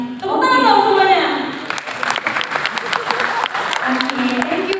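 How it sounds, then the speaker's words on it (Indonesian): An audience at an Indonesian business software presentation claps, a dense burst of applause that thins out as voices talk over it and the host begins speaking. "Tepuk tangan dong semuanya."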